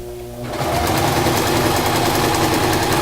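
A sewing machine stitches the hem of a DIY hammock, starting up after a brief pause and then running as a loud, fast, steady mechanical chatter close by.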